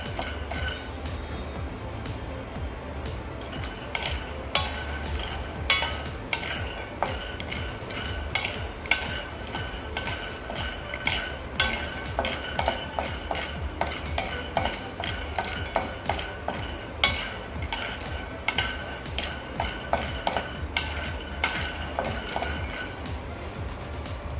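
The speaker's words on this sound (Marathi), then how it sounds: "इथे आपले शेंगदाणेसुद्धा भाजून झालेले आहेत" Dry, rattling clinks as peanuts are dry-roasted, tossed and stirred in a pan, irregular scraping knocks repeating steadily over a soft background hiss.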